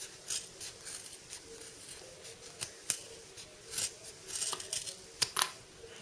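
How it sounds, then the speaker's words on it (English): Scissors snip through fabric close to the seam stitches of a tiny zipper keyring pouch, giving quiet, irregular crisp cuts and small clicks against a faint, near-silent background. "So I'll cut close to those stitches but not through."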